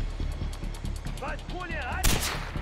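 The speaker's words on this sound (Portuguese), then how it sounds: "Será que esses tiros pegaram nele?" Gunfire in the video game Far Cry 4: a rapid, evenly paced burst of shots that ends in a louder blast, with a voice talking over part of it.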